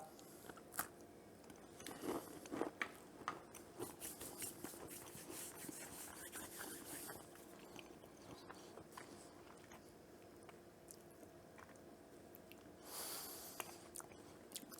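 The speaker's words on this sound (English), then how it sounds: "Then you get the dull crunch of the pecans." Someone eats a crunchy chocolate pecan praline, giving soft, close chewing and crunching with intermittent crisp bites over a quiet background, with no talking.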